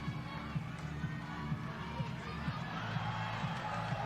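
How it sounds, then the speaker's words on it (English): Crowd cheering at an IFSC Climbing World Cup bouldering semifinal in Innsbruck, a steady roar from a large audience with swelling shouts and faint voices mixed in, holding loud throughout. "Every time Anna Stur nails a move, there's a big cheer from the crowd"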